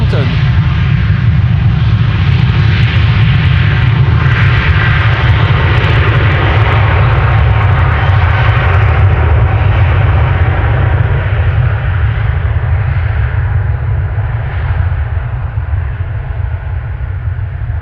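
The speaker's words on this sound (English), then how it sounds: "a United 767-300 to Washington" United Boeing 767-300 taking off at Amsterdam Schiphol on a flight to Washington, a loud, continuous jet engine roar that holds strong throughout and eases slightly near the end.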